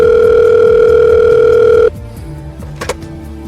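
A telephone ringback tone plays during a call as a loud steady electronic tone that cuts off abruptly partway through, leaving faint background noise.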